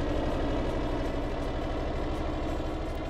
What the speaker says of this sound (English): now that we have the engine started